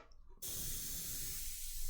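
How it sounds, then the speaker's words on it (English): An airbrush sprays high density acrylic paint on a hobby workbench, starting abruptly after a brief quiet moment into a steady, close hiss that holds to the end. "So I am spraying high density acrylics."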